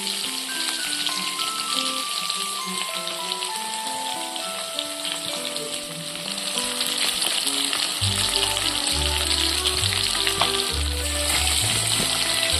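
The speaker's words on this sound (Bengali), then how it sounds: "আমি মাছটা হালকা করে ফ্রাই করে নিচ্ছি, আমি বেশি ফ্রাই করবো না" Bhetki fish fries lightly in a pan, giving a continuous soft sizzle and hiss under background music, steady throughout.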